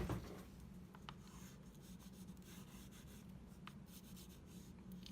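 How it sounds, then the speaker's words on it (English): A crayon traces outlines on tracing paper, giving a faint, steady scratchy rubbing with a few light strokes and no voices. "I'm just here outlining with a crayon on some tracer paper what's happening"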